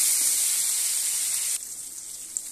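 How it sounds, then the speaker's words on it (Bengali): Chopped tomato and green chillies sizzling in hot oil tempered with bay leaf, dried chilli and five-spice seeds, a loud bright hiss that abruptly drops to a softer sizzle partway through. "এখানে টমেটো, কাঁচা লঙ্কা দিয়ে দিলাম"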